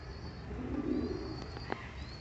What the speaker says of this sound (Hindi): ये एक हमारे पास कबूतर है